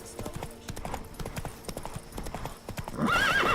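A horse gallops in The Witcher 3, rapid rhythmic hoofbeats pounding close, ending in a loud whinny.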